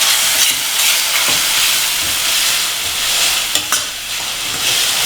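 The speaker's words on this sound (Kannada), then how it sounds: "ಒಂದು 5 ನಿಮಿಷನಾದರೂ ಇದನ್ನು ಚೆನ್ನಾಗಿ ಕುದಿಸ್ಕೋಬೇಕು" Spinach curry bubbling and being stirred in a pot, a loud continuous hiss and sizzle with a few brief scraping knocks, no voices.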